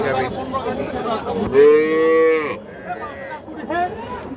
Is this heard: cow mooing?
yes